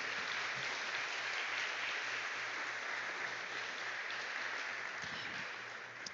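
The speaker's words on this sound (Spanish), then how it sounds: "Dele un aplauso al Señor." A church congregation gives sustained applause during a Sunday service, a thick, even roar of clapping from a large group that fades only slightly near the end, over a soft low hum.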